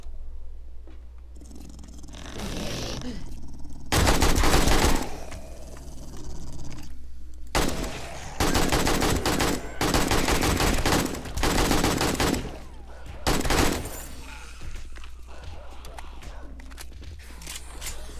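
Bursts of AK rifle fire in the zombie survival game 7 Days to Die, several loud clusters of rapid shots separated by quieter gaps, with a low steady hum underneath.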